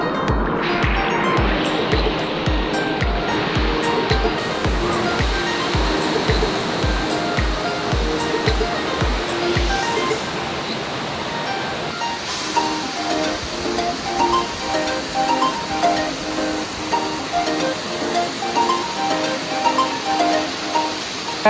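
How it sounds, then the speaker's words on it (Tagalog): Gabur Gabur Falls in Peñablanca, Cagayan Valley, roars as a steady, loud wash of falling water, with a rhythmic low thumping through the first ten seconds before the rush continues alone. "Gabor Falls, Cagayan Valley."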